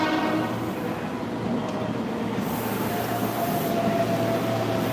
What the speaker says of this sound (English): Alright, I'm getting on this train.